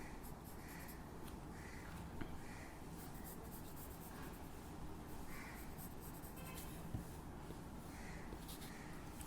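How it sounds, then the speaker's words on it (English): A pencil draws on paper at close range, giving soft, faint scratching strokes in a loose, repeated rhythm of short swishes with small taps. "Now I'm drawing the spikes on the head which are visible."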